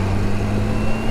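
A 2022 Kawasaki H2 SX motorcycle engine under throttle gives a steady, loud droning hum with wind rush, holding an even pitch throughout and with no voices.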